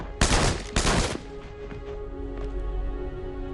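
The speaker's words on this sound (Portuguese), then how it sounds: "Os soldados disparam com suas metralhadoras e matam os prisioneiros." Machine guns fire in a Second World War reenactment of German soldiers shooting prisoners: two loud, rapid bursts in quick succession, followed by a quieter ringing tail and a few faint pops.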